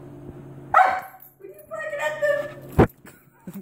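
A dog barks in a few short, sharp bursts close by, with a person talking in between.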